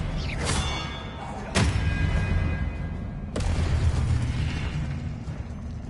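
Confringo blasting spells burst in the Hogwarts Legacy video game: three sharp explosive cracks, each followed by a rumbling low-end tail, spaced a second or two apart over continuous game noise.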